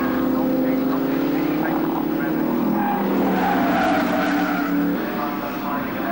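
Aston Martin race cars sweep past on a circuit during an Anglo American Challenge race, leaders lapping slower cars, a loud sustained engine roar swelling and fading beneath a commentator's voice.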